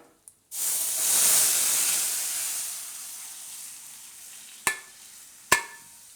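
Red chilies and curry leaves dropped into hot oil hiss up in a sudden loud sizzle that slowly fades into a soft steady fizz, followed by two sharp metallic clinks near the end.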